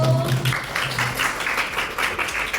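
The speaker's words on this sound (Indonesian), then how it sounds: "Tepuk tangan dulu guys buat kelompok 1." A classroom of students claps for a presenting group, steady irregular hand claps close by with a brief hum early on.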